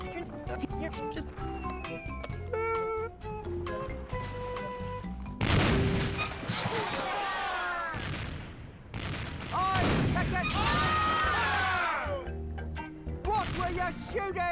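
Cannon blasts boom in The Curse of Monkey Island aboard a ship's hold, heavy bursts arriving in two long rolling volleys between stretches of music and game sounds.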